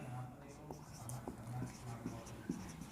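A math solution being written out by hand, faint scratchy pen strokes in a steady irregular rhythm, close and soft, with a voice speaking quietly underneath.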